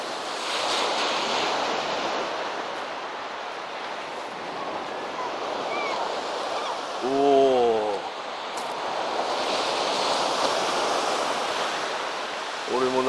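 Steady wash of small waves breaking on a shore at a small river mouth with some wind, and a brief voice speaking partway through.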